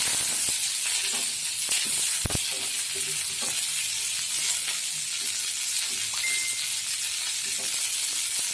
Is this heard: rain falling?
no